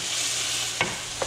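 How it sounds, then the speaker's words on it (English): Meat fries in a pan with sliced shallot and onion, a continuous soft sizzle with two brief scraping stirs of a utensil against the pan. "Let's stir our meat again."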